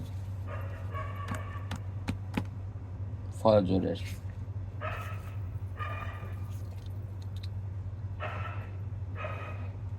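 A dog barking at a distance, several short barks spaced over a constant low hum, with a voice briefly speaking in the middle.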